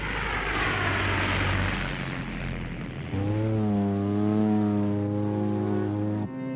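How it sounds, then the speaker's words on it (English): A propeller airplane taking off from a glacier runway in Antarctica, its engine droning loud and close, then shifting to a steadier, higher-pitched roar as power builds, with a sudden drop at the end. "The flights take off from a runway cleared from the glacier, with a path well marked so the aircraft doesn't slide into one of the nearby crevasses"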